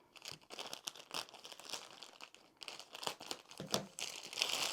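Paper scissors snip and crinkle through packaging on a mystery fabric box, a busy run of close, dry crunching and crackling rustle that continues steadily without any talk.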